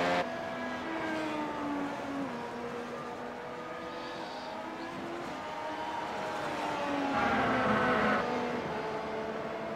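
Race car engines in a Belgian Grand Prix racing game, a steady high-pitched whine that holds for the whole stretch, with pitch shifting as the cars brake and accelerate, and a louder swell near the end.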